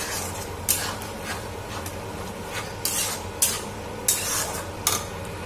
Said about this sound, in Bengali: ডিমটাকে পেঁয়াজের সাথে ভালো করে মিশিয়ে নেব।